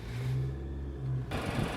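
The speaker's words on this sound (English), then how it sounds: "Hear the sound of that engine." A 2020 Nissan Altima engine starts by push button and settles into a low idle rumble, brief and close, with a rise in noise near the end.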